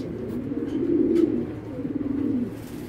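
A female Python-breed racer pigeon coos softly in a low, wavering murmur, a steady rolling call with a slight swell in the middle, close by and alone.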